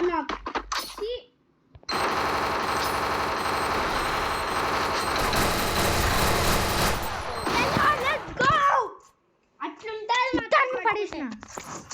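Gunfire and a grenade blast in the battle game Free Fire Max, a dense sustained burst of shooting and explosion filling several seconds between stretches of a young voice talking.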